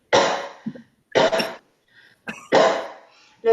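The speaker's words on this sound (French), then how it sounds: "Vous allez tousser." Several short, forceful coughs in separate bursts, close and fairly loud, with brief silences between them.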